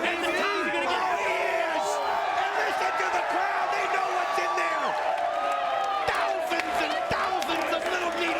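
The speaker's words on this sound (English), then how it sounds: "And listen to the crowd." A loud arena crowd at a TNA wrestling event roars and cheers continuously, whoops and shouts layered into a dense wall of noise, with sharp thuds from the ring breaking through.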